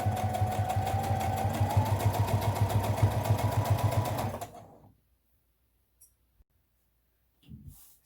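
A sewing machine runs steadily for about four seconds, stitching a fabric face mask with a pipe cleaner tucked into the seam, then stops, leaving near silence with a few faint clicks and a brief handling noise at the end.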